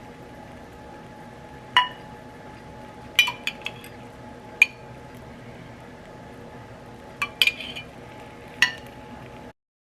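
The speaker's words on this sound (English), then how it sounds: "I'm gonna mix the butter around." Melted butter is spooned and mixed around in a baking dish of bourbon peach pandowdy, heard as scattered light clinks and taps of a spoon against the dish over a quiet background.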